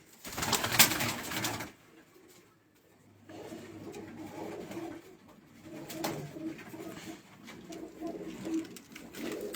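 A hobby pigeon held in its keeper's hand at a Mianwali pigeon club gives low, throaty coos, close and fairly quiet, with rustling and faint background noise and no talking.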